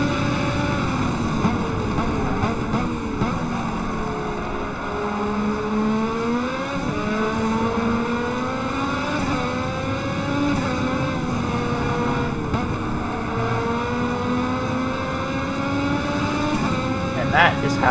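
A race car engine in the Automobilista racing video game screams through gear changes during an overtake, steady and loud throughout, with rising and falling pitch.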